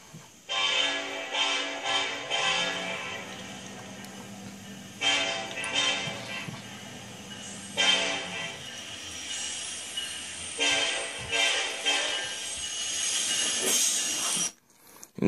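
A Norfolk Southern train passes close by with loud, rumbling wheels. Its horn sounds several long blasts, and the noise cuts off abruptly near the end. No voices are heard.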